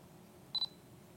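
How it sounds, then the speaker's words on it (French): Fujifilm SL series camera (2012) releasing its shutter to take a photo: a brief, crisp double click standing out against quiet background hum. "pour prendre une photo, il faut tout simplement appuyer sur le déclencheur"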